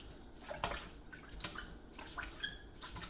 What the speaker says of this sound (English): we're going to do a pretty vigorous squeeze on the rice to make sure